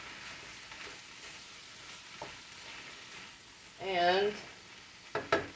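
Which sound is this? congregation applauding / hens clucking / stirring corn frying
stirring corn frying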